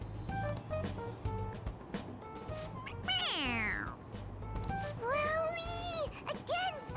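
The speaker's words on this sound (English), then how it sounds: "It meows when you press on its head." A toy cat from Persona 5 Royal meows repeatedly when its head is pressed, several drawn-out, wavering cries close up, the longest sliding downward, over faint background chatter.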